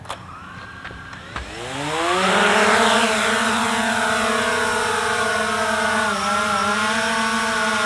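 Motors of a Hubsan Zino 2 drone spin up for an automated takeoff, rising into a loud, steady, high-pitched whine that holds level as it climbs and hovers nearby.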